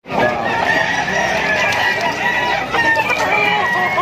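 At a crowded Malabon pet market, chickens and roosters crow and cluck loudly and continuously, many birds layered close together in a dense, unbroken din, with faint voices underneath.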